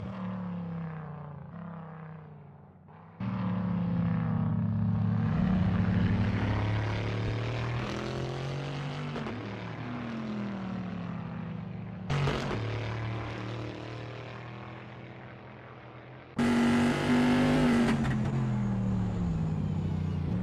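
A Bizzarini race car in a video game roars through the Piratella section at Imola, its engine note rising and falling as it shifts gears, with abrupt cuts between loud close passes and more distant engine drone.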